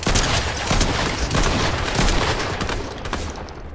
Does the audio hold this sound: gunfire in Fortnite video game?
yes